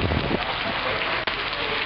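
Rain arriving after a spell of distant thunder, a steady hiss of falling drops on surfaces, fairly loud and continuous with a brief dip near the end.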